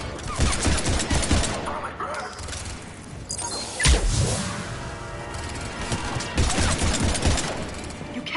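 Mass Effect 3 combat with dense, rapid gunfire volleys and impact bursts, loud and close, layered with clattering effects and game speech.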